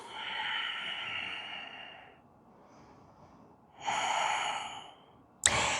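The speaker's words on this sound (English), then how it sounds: "just taking a few breaths here" Slow, deep breaths taken during a yoga warrior flow practice: two long, airy inhale-exhale swells a few seconds apart, close and clear, ending with a sharp short intake.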